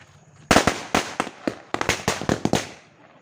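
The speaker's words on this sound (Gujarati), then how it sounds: "હાલો હાલો ફટાકડા ફોડીએ" Firecrackers set off by hand during a family celebration burst in a quick series of about ten sharp, loud cracks, some close together, with short gaps of quiet between them.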